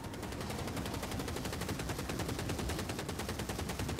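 Rapid, sustained automatic fire from a ratling gun in the Warhammer Vermintide video game, a dense even rattle of shots that continues without pause, loud and up close with no speech.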